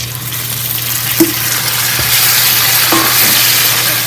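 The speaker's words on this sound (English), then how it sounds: "we're also going to add the tomatoes at this time" Tomatoes tipped into browned onions in a pot for a chicken biryani, a steady broadband sizzle running throughout, with a few soft spoon clinks and scrapes as the mixture is stirred.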